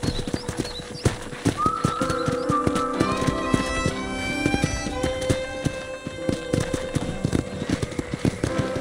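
Rhythmic clip-clop of horse hooves at a walking pace in the video game Red Dead Redemption, with a horse whinnying partway through over soft background music.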